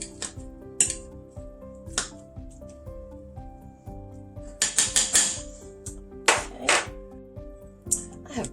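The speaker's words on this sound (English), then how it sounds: "I'm just using a potato masher for this." Firm avocado being mashed by hand with a potato masher for guacamole, giving a series of separate squelching, clacking strokes against the bowl with short pauses between them, close and fairly loud.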